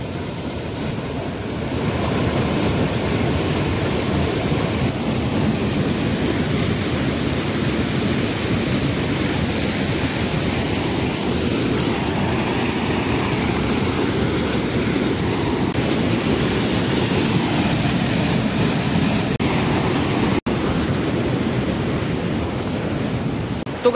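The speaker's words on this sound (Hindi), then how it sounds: "नदी का बहाव बहुत तेज है" Fast-flowing river in hilly terrain after days of continuous rain, a steady loud broadband rush of churning water, close and unbroken throughout with no speech.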